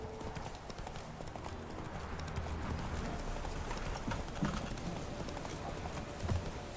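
Horse galloping in The Witcher 3 video game, rapid rhythmic hoofbeats clip-clopping steadily over a continuous background, moderately close and even throughout.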